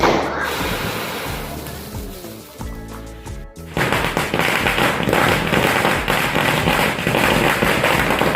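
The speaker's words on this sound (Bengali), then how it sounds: "আমি এরকম বাজি ফাটাতে কোথাও দেখিনি" Firecrackers bursting on Kali Puja night in a neighbourhood street: a dense barrage of sharp cracks and bangs, then a brief lull and a very loud burst that starts a fresh, relentless crackling volley close by.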